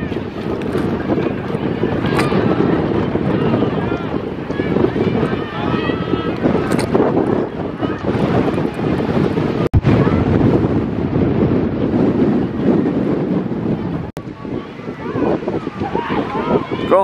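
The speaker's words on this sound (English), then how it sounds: "Fight that wind!" Wind buffets the microphone during an outdoor girls' 5K cross-country ski race in Alaska, a loud, continuous rumbling roar throughout, with spectators shouting and cheering over it.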